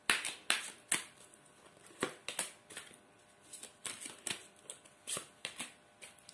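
Oracle deck cards being shuffled by hand for a reading, a quick series of crisp riffling snaps and slaps at close range, fairly quiet and irregular in rhythm.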